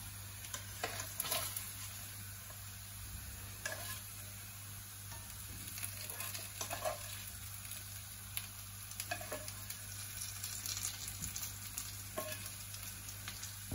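Cooked meat is stirred into fried potatoes in a pan, with a faint steady sizzle and soft scraping and clinking of a utensil through the food.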